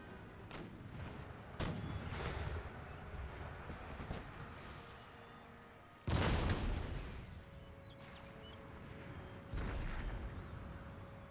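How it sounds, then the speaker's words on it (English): Cannon artillery fire in the video game Empire Total War, in a naval battle: several heavy booming volleys with rumbling tails over wind and water noise, the loudest blast near the middle, no voices. "Cannons!"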